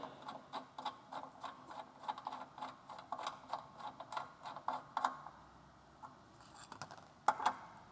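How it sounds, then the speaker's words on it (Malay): A close ratcheting, clicking run of turns comes from an adjustable wrench or 19 mm spanner tightening a bolt during a Yesoul S3 exercise bike repair. The turns are steady and rhythmic for about five seconds, then a pause and a few final clicks follow. "dengan menggunakan adjustable wrench ataupun spanner bersaiz 19, kita boleh pusing dan ketatkan dia"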